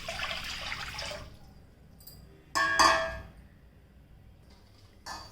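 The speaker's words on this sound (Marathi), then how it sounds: "पाणी घालायचं कढईत." Water is poured into a kadhai (wok) while making steamed coriander vadi, with a splashing pour at first, then sharp metallic clanks and another brief splash against a quiet background.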